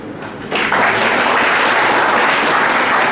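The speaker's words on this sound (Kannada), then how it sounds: "ಮಂದಿ cheers ಮಾಡ್ತಿದ್ದಾವೆ, ಎಲ್ಲರೂ ಚಪ್ಪಾಳೆ ತಗಲಿ" An audience at a talk on India's Constitution bursts into applause, a quieter start quickly swelling into loud, sustained, dense clapping from a large crowd.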